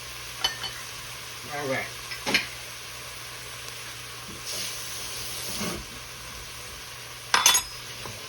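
Garlic sizzling in a pan while shrimp and seafood cook, a soft steady frying hiss with occasional stirring clinks and scrapes, and someone speaking briefly over it.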